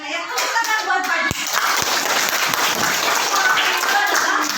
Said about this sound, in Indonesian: Tepuk tangan buat pagi